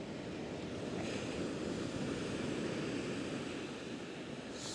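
Ocean surf washes onto a beach in a steady broadband roar mixed with wind rumbling on the microphone, continuous and moderately faint with no voices.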